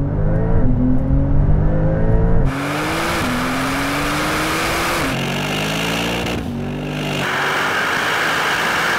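A Brabus 900 Rocket R and an AMG 900 accelerate hard in a rolling drag race, heard from inside the car: loud, rising engine roars broken by quick gear changes, each pull climbing again with no talk.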